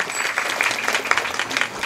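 A crowd claps at a kirtan, a devotional gathering in a village. The applause is dense and steady, with some sharper individual claps standing out near the listener.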